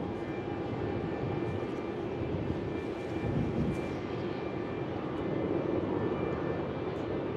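An aircraft at Melbourne Airport on an early morning gives a steady, distant engine roar with a broad rumble that holds evenly throughout.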